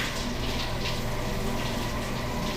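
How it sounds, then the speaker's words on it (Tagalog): A shower runs after a refuel stop, a steady, close hiss of falling water that holds constant and fills the whole stretch with no voices. "shower."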